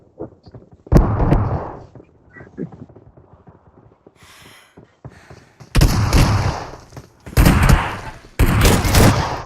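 Bursts of gunfire from a multiplayer shooter game, several loud volleys with sharp onsets spaced across the clip, separated by quieter stretches of background game sound and light chatter.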